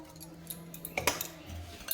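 A spoon stirs semolina batter with grated carrot and a little added water in a bowl, giving faint scattered clinks and scrapes against the dish at close range.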